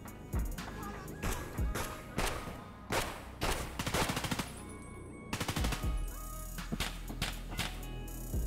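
Video game gunfire in rapid bursts, with fast machine-gun rattles and single sharp shots repeating through the stretch, fairly close but quiet overall, with some faint in-game movement between volleys.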